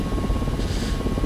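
Mi-17 helicopter rotor in the DCS flight simulator, a steady, loud, continuous thrumming drone with a hissing swell in the middle of the short stretch, no voices over it.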